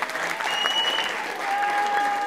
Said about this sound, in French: On applaudit Demba,